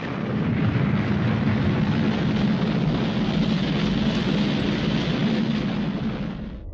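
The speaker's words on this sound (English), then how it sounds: "After blastoff, I will explain the principles on which this rocket will reach outer" A rocket blasts off with a steady, loud, broadband roar that holds unbroken for several seconds and then eases slightly at the end, with no voices over it.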